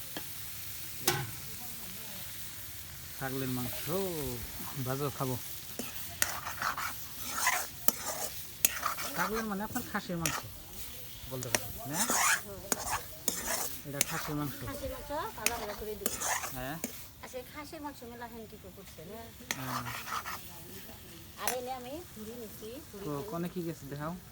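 Goat meat being stirred and fried in a pan, with steady sizzling and a metal spoon scraping and clattering against the pan throughout, while a voice speaks intermittently over the cooking.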